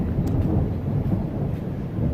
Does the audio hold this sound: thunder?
yes